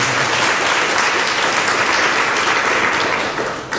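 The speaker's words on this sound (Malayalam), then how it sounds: "നമുക്കൊന്ന് കൈയടിച്ച് നമ്മുടെ ആദരവ് അറിയിക്കുന്നു" Audience applause for a church choir at a retreat, steady dense clapping from a crowd filling the whole stretch and easing slightly at the end.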